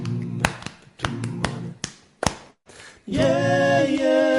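Body percussion, with hands tapping on the chest in short rhythmic bursts of dull thumps, followed by sustained sung tones joining in at close range.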